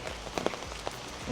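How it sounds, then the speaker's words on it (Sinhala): Heavy rain falls steadily at a hillside resort in Sri Lanka, a constant wash of noise with a few louder nearby drops pattering on a surface. "හොඳටම වහිනවා."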